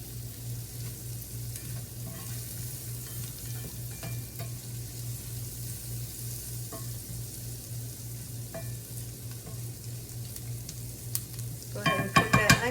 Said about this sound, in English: Go ahead and cook that onion with the bacon a little bit.